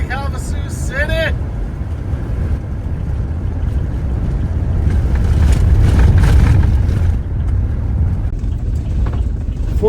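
Steady low road rumble and engine drone from a car cruising on a highway near Lake Havasu City, constant and close throughout, swelling louder midway, with brief squeaky whines near the start.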